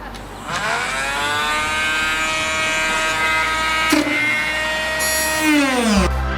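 A Dremel rotary tool cuts through a Nissan 240SX S14 hood to fit Aerocatch hood pins, giving a steady, loud high-pitched whine that holds, dips in pitch under load near the end, then cuts off.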